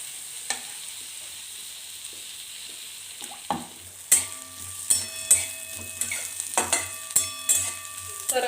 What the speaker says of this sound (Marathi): मी हा कांदा टाकून देते थोडासा कांदा भाजून घ्यायचा